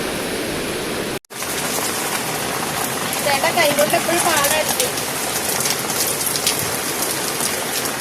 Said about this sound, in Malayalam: ഇവിടെ ഭയങ്കര കാറ്റാണ്.